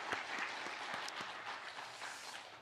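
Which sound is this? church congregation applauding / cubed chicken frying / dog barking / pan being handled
church congregation applauding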